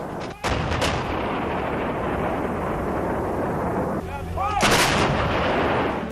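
A Bofors howitzer fires several loud, close artillery blasts, two early in quick succession and another heavy pair later. Each boom rolls into a thick, rumbling roar that never fully fades.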